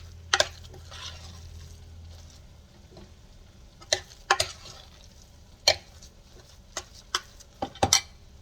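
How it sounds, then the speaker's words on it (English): A utensil stirs grated Romano cheese into potatoes in a bowl for shepherd's pie, giving close, irregular scrapes and clinks spaced a second or so apart over a soft background. "I'm just mixing that Romano in here"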